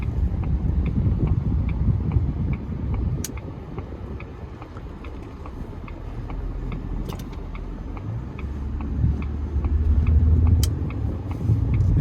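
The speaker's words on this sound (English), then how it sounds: "This thing is a supercharged V8, and if you ask it to fly, it'll fly." A supercharged V8 in a 2000 Jaguar XJR drives along, giving a steady low rumble of engine and road noise that swells near the start and again toward the end, with no voices.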